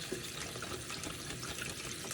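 Water pouring steadily into a mixture at a riverside duck-hunting camp, a soft, continuous splashing trickle that sounds close and faint, with no talk.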